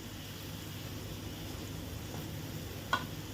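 Hotel-style chicken sukka with Kashmiri red chilli powder fries in a pan, giving a faint, steady sizzle with one small sharp click near the end.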